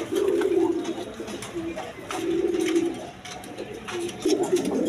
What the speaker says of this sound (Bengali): দর্শকবৃন্দ এখানে এক পেয়ার 8 এঞ্জেল কবুতর আছে।